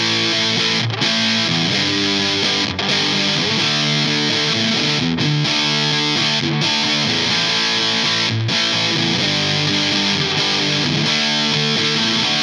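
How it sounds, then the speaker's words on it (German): An overdriven amplifier pushes an electric guitar into a thick, saturated overdrive tone, with dense chord riffs played continuously and loudly, broken only by a few brief stops, with no talking. "um eben leichter in diesen Overdrive-Sound reinzukommen"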